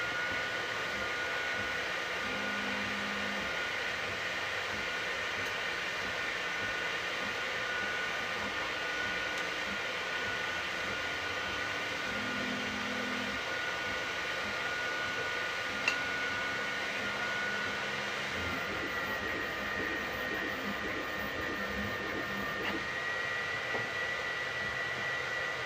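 A large Sovol SV08 3D printer runs continuously, a steady whirring fan-like hiss with faint shifting motor tones rising and falling underneath, close and unbroken throughout, with no voices.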